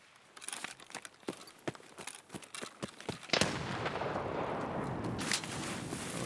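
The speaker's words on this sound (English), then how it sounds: "That was my grenade." A grenade blasts in a shooter video game, a sharp explosion followed by a sustained rumbling roar, after a run of quick clicking gunfire or footstep-like impacts.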